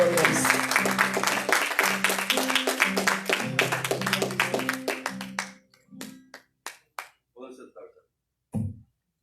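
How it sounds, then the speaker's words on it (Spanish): A church congregation applauds over music and voices, the clapping dense and steady at first, then thinning into a few scattered claps before falling quiet. "Denle un aplauso al Rey."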